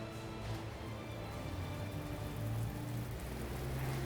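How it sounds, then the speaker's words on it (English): An enormous film-set rain system on an outdoor ship set sends down a steady hiss of falling rain, continuous and moderately distant, with low background rumble. "Now we're testing the enormous rain system."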